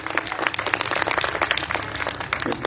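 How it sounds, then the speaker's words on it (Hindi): An audience at an open-air poetry gathering in a grain market applauds the organizer in a brief, lively round of dense, close clapping. "एक बार आशीष भाई साहब के सम्मान में आप सबकी तालियां हो जाएं।"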